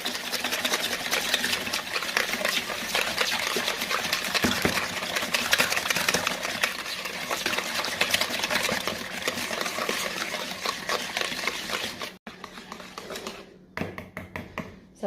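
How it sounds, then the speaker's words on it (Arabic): A manual whisk beats cake batter in a bowl, making fast, steady, rhythmic clicking and tapping for about twelve seconds, then pausing and briefly resuming. "غادي نجيب الضرب اليدوي"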